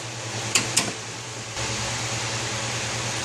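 A vacuum pump evacuates the A/C system of a 2007 Hummer H3. Two sharp clicks come first, then a steady, close mechanical hum sets in and holds without speech.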